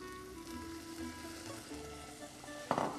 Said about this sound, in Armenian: հիմա ավելացնում ենք կարմիր ոսպը, մեկ շերտ խաշված սիսերը